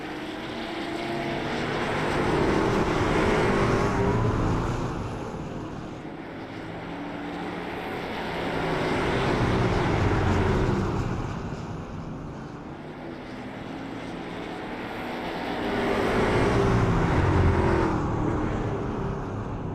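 Race cars on pace laps in a short-track sim racing game, heard as engines droning steadily and rising and falling in broad waves as the pack circles past, with no voices.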